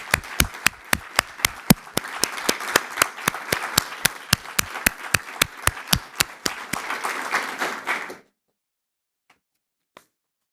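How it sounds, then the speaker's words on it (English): Applause for new Sigma Theta Tau nursing honor society inductees at an induction ceremony. Sharp, evenly spaced claps ring out over a bed of crowd clapping for about eight seconds, then stop abruptly, leaving near silence with a couple of stray claps. "Let's give them a round of applause."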